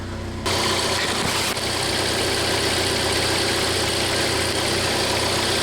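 Jeep engine with a no-spark, no-start fault catching and settling into a steady idle after a brief quiet moment, loud and close with a constant low rumble and faint knocking texture.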